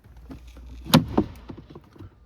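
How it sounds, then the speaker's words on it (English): A couple of solid plastic thunks close together as the glove box of a 2017-2019 Toyota Highlander is pushed and snapped into place, with faint handling noises around them. "grab the glove box, pop it in"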